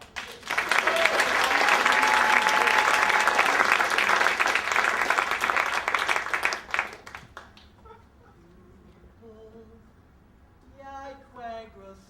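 A crowd bursts into loud, dense applause that holds for about seven seconds before dying away, after which a person speaks.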